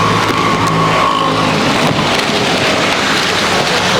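Rain falls during an outdoor food service at Tiruvannamalai, a loud, dense, continuous hiss close by with faint passing traffic beneath it.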